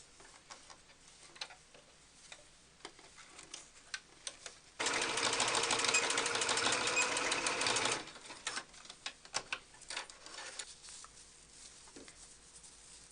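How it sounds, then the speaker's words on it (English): Faint clicking and handling noises give way to a sewing machine stitching elastic, running in one fast, steady burst for about three seconds, then the clicks return. "Stitch the two ends of the elastic together with your sewing machine."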